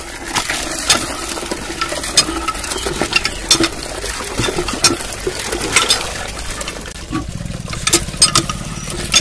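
Water runs steadily from a tap into a bucket outdoors, a close, continuous splashing rush with clinks and knocks mixed in and no speech.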